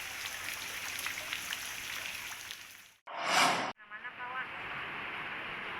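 Heavy rain pours steadily during a flood in Banjarmasin, a constant hiss under speaking voices, broken by a brief louder burst partway through.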